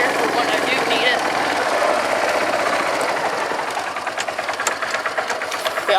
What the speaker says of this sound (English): The idle's pretty slow compared to where I have it set, but I mean, it's cold.